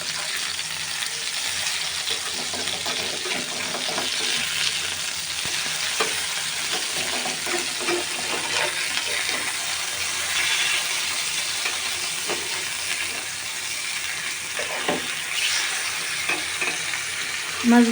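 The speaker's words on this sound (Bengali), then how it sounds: "মাছগুলো উল্টে দিয়েছি। এবার এপাশও আমি একটু সুন্দর করে ভেজে নেব।" Rohu fish pieces frying in hot oil after being turned, a loud continuous crackling sizzle with occasional spatula scrapes and pops, close up and without talk.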